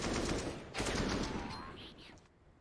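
Rapid automatic gunfire rings out on the Vertigo map during a professional Counter-Strike match, loud bursts of shots followed by fading impacts, with a commentator talking over them.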